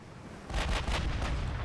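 Cannon and gunfire shots strike armour in a Byzantine Empire strategy game campaign, a burst of several heavy booming impacts in quick succession, loud and rumbling, with no talk.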